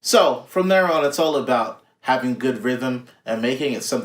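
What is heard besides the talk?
No distinct noise like a dog, phone or traffic.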